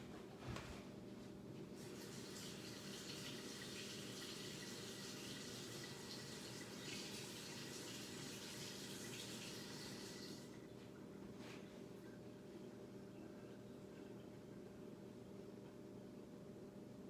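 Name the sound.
rinsing a paint brush under running water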